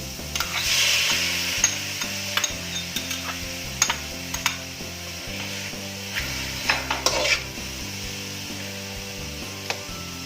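Mushrooms fry with hot dog in a pan, giving a steady sizzle broken by scraping and stirring clicks, heard under light background music.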